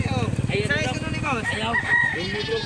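A rooster crows loudly and close at a chicken market in Domanjug, Cebu, its long rising calls repeating over busy market noise and nearby voices.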